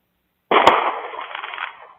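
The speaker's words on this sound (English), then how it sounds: "I heard it live. And I thought, oh my God, that was a gunshot." A sudden gunshot-like crack bursts out of silence, a single sharp report followed by a roughly one-second reverberant, filtered-sounding tail that tapers off.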